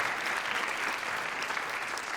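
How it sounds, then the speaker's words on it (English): Brief burst of audience applause for the drummer during a college jazz lab band concert, a steady wash of clapping from a moderately sized crowd, slightly distant and alone. "Round of applause for Benjamin back there on the drums."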